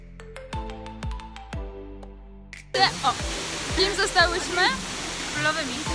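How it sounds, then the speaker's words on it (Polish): After a few plucked musical notes, the Sekumpul waterfall in Bali takes over with a loud, steady rushing roar while people talk over the noise of the water. "tutaj jest kilka wodospadów"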